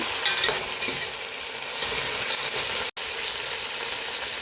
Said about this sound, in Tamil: இப்போ கிண்டி விட்டுக்கலாம்.